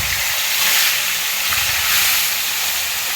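Fish fries in a wok with a steady, loud hiss of sizzling oil that holds without pause throughout.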